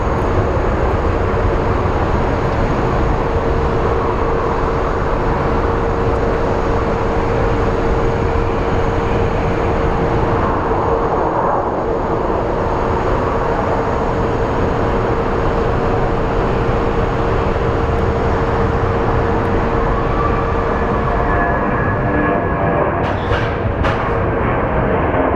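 An airliner departs Phoenix Sky Harbor for Edmonton, giving off a loud, sustained engine roar with a steady whine running through it. The sound holds at near-constant strength for the whole stretch, with no voices.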